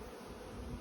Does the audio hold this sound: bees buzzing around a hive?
yes